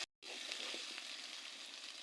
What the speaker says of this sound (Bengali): বাটা মশলাগুলো দিয়ে আগে তেলে ভেজে নিব